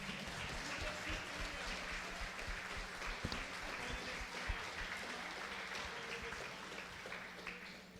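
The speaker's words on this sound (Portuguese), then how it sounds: "aplauda ao Senhor nessa manhã em nome de Jesus" A church congregation claps during a Sunday morning service, a dense, continuous wash of hands sounding somewhat distant and even throughout.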